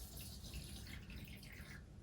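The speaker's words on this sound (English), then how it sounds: "I'm just going to top this water dish up." Water trickles and drips softly into a tarantula's water dish as it is topped up, a brief, faint, close pour.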